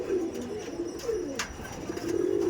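Male tournament pigeons coo in low, repeated rolling calls, close and fairly quiet, with a short flutter or scuffle partway through.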